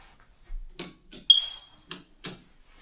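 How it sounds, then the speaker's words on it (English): In an old house, a smoke detector with a low battery gives one short, high chirp amid quiet footsteps and handling noises. "Smoke detector needs new batteries."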